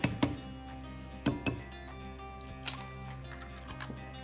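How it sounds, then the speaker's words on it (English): Eggs cracked against a bowl while preparing pan-fried wild rabbit: a few sharp, quiet taps and clinks, in pairs near the start, then a lighter one later. No voices. "we're just gonna simply add 1 egg, and then we'll add the other"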